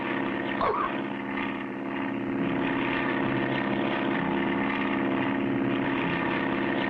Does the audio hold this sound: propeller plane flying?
yes